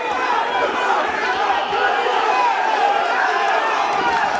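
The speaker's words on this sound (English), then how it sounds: "And here comes Kerobyan to the delight of the Hollywood crowd." A Hollywood boxing arena crowd roars during a welterweight fight, a loud, continuous wash of cheering and shouting with voices blended into the noise.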